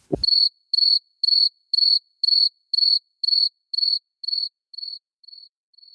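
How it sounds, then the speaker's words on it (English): After a brief low thump, a cricket chirps about a dozen evenly spaced times, the shrill pulses growing fainter toward the end, with nothing else heard. "I'm going to pause so you can insert the crickets noise here."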